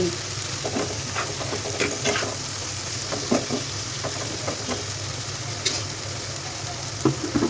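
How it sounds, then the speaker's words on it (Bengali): Ash gourd with spices fries in a pan while being stirred, a steady loud sizzle under repeated scraping spatula strokes and occasional metallic taps. "সবগুলো চাল কুমড়া দিয়ে খুব ভালোভাবে নাড়াচাড়া করে মশলার সাথে মিশিয়ে নিচ্ছি"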